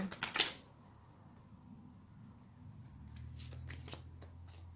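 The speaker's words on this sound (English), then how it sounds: "Let me pull another card here." Tarot cards shuffled briskly up close in a short riffling burst, followed by quieter soft handling and sliding as a card is drawn.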